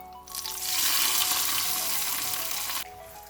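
Hot tempering of fenugreek seeds, green chillies and curry leaves poured into Kerala kurukku kalan, bursting into a loud, steady sizzle for a few seconds before cutting off abruptly.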